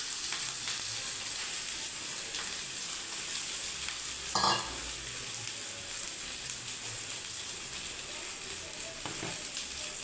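Mashed potato frying in a pan while being stirred: a continuous close sizzle with soft scraping and one brief louder clatter midway, steady throughout without speech.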